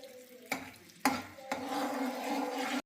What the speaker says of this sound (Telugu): ఇప్పుడు నేను బ్రోకలీ బటర్లోకి వేసేస్తున్నా.